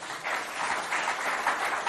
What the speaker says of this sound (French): J'aimerais qu'on applaudisse simplement pour ce joli match